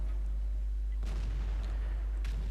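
A tank gun fires in World of Tanks from an M48A1 Patton, with two sharp, booming shots about a second apart over a low, steady engine rumble.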